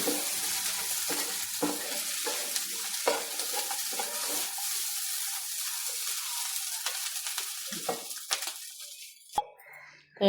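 Beef fry sizzling and crackling steadily in a pan, up close and fairly loud, with stirring scrapes and clinks throughout before the sizzle fades near the end.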